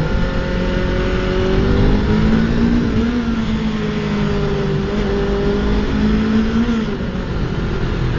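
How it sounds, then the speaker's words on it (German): An Audi A4 passing on a road, heard from a motorcycle amid steady engine and wind roar; a sustained engine tone rises and falls over several seconds, fairly close and loud. "Audi A4."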